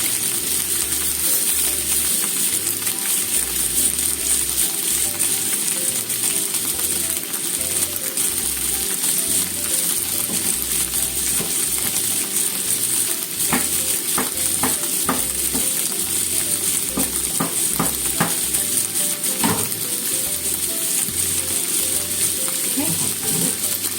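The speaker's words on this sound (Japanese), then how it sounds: "プリカとキャベツ炒めます。" Paprika and cabbage stir-fry steadily in a pan, a continuous close sizzle with scraping stir strokes and a cluster of sharp utensil clicks midway, no talk.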